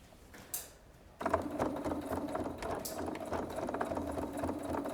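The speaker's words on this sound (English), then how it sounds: "So I'm just going to sew this together." Sewing machine stitching through layers of foam or wadding, starting after a quiet second, then a fast steady mechanical whirr with rhythmic needle thumps, close and clear.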